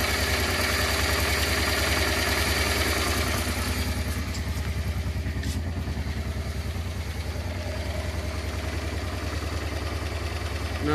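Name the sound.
Honda Transalp motorcycle engine idling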